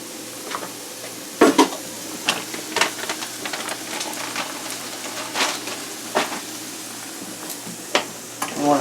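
Risotto rice sautés in a pan, a soft continuous sizzle broken by sharp clinks and scrapes of a utensil stirring against the pan, moderately close with no talking.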